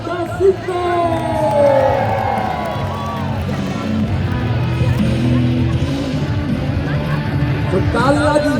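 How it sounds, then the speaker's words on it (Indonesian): Large outdoor crowd cheering and shouting at a military air show marking the 79th anniversary of the Indonesian armed forces at Monas, a steady loud roar of voices with whoops and a public-address voice talking over it. "tepuk tangan dan meriah untuk Desifio."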